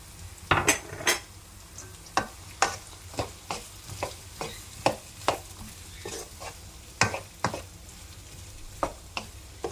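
Onions sizzle softly in hot oil while a utensil scrapes and taps the pan in a steady rhythm of regular strokes, close by with no talking.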